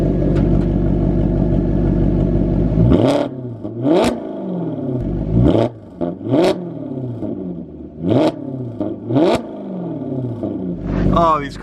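A flood-damaged exotic sports car engine with the exhaust valves open and an Urutu non-resonated X-pipe, idling steadily before a series of sharp, loud revs that rise and fall back in quick bursts, close and alone.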